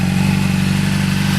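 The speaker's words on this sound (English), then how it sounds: "stock exhaust is warmed up, so we're going to give it a little bit of a rev here." A stock-exhaust 2008 Honda CBR 600RR engine runs steadily and loudly up close, a continuous low throbbing drone with a slight rev feel and no voices.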